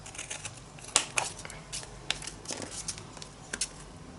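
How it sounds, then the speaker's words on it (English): Scissors snip through paper for an art journal in a quiet room, a scattered series of short crisp cuts and rustles spaced irregularly across the moment. "For these ones I'm just going to cut this off for the moment."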